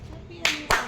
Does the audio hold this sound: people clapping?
yes